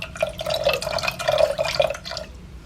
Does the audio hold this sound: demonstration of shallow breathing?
no